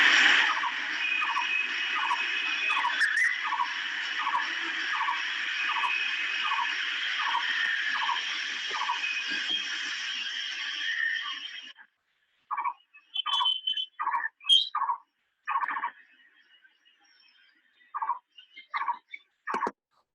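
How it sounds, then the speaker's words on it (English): A blue-throated barbet in northern India gives a rapid, rhythmic series of repeated hollow notes for about twelve seconds, then breaks into scattered short phrases, clear and fairly close against a faint background. "Absolutely stunning barbet with also a very, very unique call."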